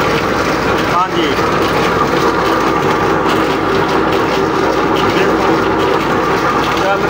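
A tractor engine drives a shaft turning a water well pump in rural Punjab, a loud, steady, rumbling drone that runs unbroken throughout, with someone talking over it.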